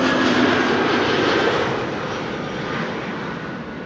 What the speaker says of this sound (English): Up next, KLM Flight 1502, another